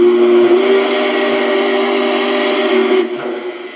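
Chime steam whistle on a Lionel Legacy Norfolk and Western Berkshire 759 model locomotive with the J-Class whistle, one long steady multi-tone blast held for about three seconds, loud and close, then fading quickly.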